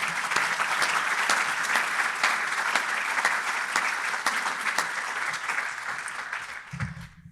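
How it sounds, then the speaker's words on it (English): Sustained audience applause for Trustee Muchmore at a public policy series event, a large crowd clapping steadily and loudly for several seconds before tapering off at the end. "Let's give Trustee Muchmore a hand."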